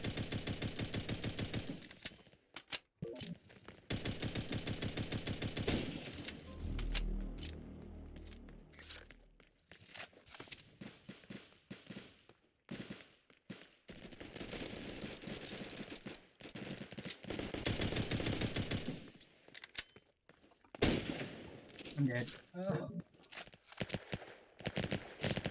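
Rapid automatic gunfire from a video game, bursts of shots repeating across most of the stretch with brief pauses, loud and close with no talk over it.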